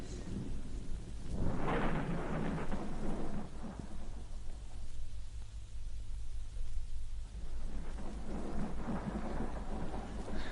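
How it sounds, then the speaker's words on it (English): Rolling thunder rumbles over steady rain in an audio drama scene, with a strong crack and roll early on, a quieter stretch in the middle, then the storm building again toward the end, all loud and close. "This exasperating thunder at least has the advantage of covering the sound of our approach."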